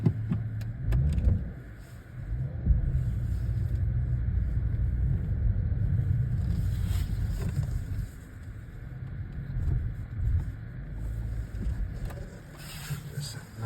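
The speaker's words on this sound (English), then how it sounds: "another POV drive, the Dodge Charger GT. But this time, it's a nighttime POV." A Dodge Charger GT cruises at night, its engine a low, steady interior drone with road rumble and faint wind noise, swelling and easing slightly as it drives.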